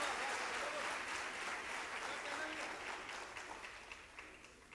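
An audience claps at a Hindi poetry gathering (kavi sammelan), a dense burst of applause that gradually thins and fades over a few seconds, moderately distant.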